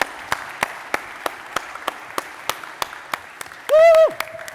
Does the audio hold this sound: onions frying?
no